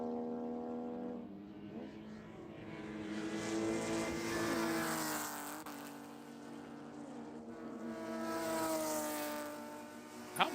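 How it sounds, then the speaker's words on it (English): Porsche Cup race cars at Spring Mountain passing on track, their engines droning steadily and swelling as they approach and fade, with a continuous mid-distance roar throughout. "How much fun is it to watch this section of track and hear the cars get light over the top of 15 there?"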